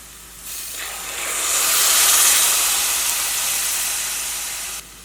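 A loud burst of hissing steam swells up as water is poured into a hot pan of egg curry, then slowly eases off while staying strong.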